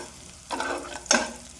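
Beans, carrot and onion fry for chow mein, two short close bursts of stirring and sizzling in the pan, the second sharper, over a quiet background.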